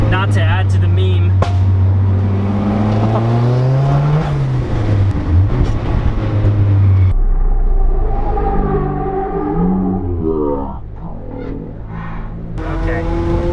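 A Mazda Miata driven hard on a mountain canyon road, engine revving and changing pitch through corners, loud and close, with people talking over it.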